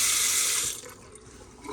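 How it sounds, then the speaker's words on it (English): Water pours steadily from a Nu drinking water filter for under a second, then drops to a softer trickle and quiet drips close by; no talking. "the water comes out over here, and it filters it for your drinking water"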